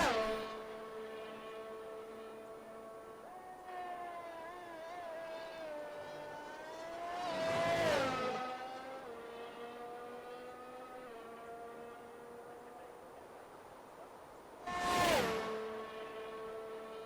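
A Formula 1 car engine in a racing video game, 2001 Italian Grand Prix, warming its tyres on an out lap near the Parabolica: a steady high-revving whine shifting in pitch, with two loud rushing passes close by.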